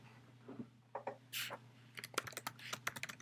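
Keystrokes on a computer keyboard clatter in an uneven run of light clicks, sparse at first and then quicker and denser, close by and fairly quiet over a faint steady hum.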